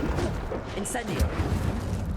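An Incendio fire spell in the Hogwarts Legacy video game goes off as a short, booming fiery blast with rumbling impacts, mixed with a voice.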